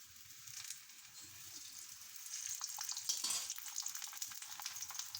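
Makki roti cooking on a griddle with ghee spread on it as it is flipped, a faint, steady hiss of frying with small crackles and a few soft handling taps, quiet and close without talk.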